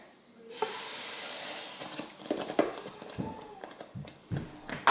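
Loud hissing sizzle bursts in as masala hits a hot pan for Indian-seasoned black-eyed peas, then crackles and splatters irregularly, with stirring clatter and a few sharp pops.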